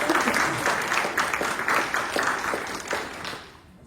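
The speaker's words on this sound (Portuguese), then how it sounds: "Pode aplaudir ao Senhor." A church congregation applauds during a celebration service, a dense, continuous wash of many hands clapping close and loud, then thinning and fading out at the end.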